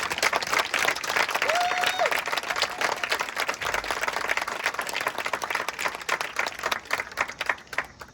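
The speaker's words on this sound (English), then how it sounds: "So please give a huge round of applause." Crowd applause at a school pass-in-review ceremony, steady dense clapping filling the whole stretch, with a brief whistle-like tone early on and faint voices mixed in.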